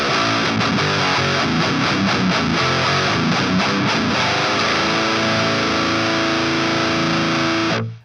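Heavily distorted high-gain electric guitar through the chainsaw channel of an amp plugin, a thick, saturated riff played loud and continuous for about eight seconds before cutting off abruptly.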